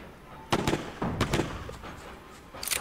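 Bombs go off in the video game No More Snow, several sharp bursts spaced over a few seconds, fairly close and punchy against a low background.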